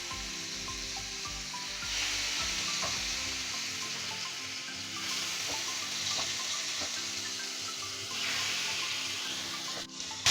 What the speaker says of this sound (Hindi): देखें, ऑयल अच्छे से गर्म हो गया है। अब हम इसमें रख देंगे स्टिक।